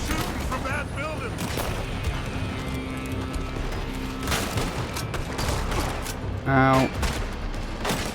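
Gunfire cracking from a building in Red Dead Redemption 2, scattered shots and a brief burst amid hoofbeats and commotion, with a voice crying out briefly.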